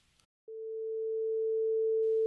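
Steady pure tones at 444 Hz and 445 Hz sound together as one clean, constant hum that grows slightly louder, after a brief faint noise, with no speech.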